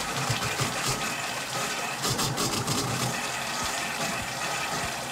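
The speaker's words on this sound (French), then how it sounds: "Vous devriez pouvoir entendre l'eau couler dans le réservoir." Water rushes into a refilling water heater tank, a constant dense gushing and gurgling that continues loud and unbroken throughout.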